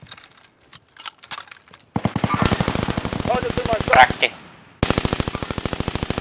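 Gunfire in Call of Duty: Vanguard, with scattered single shots and then loud, rapid machine-gun bursts in quick rhythmic strings, a brief gap between them and a short spoken word.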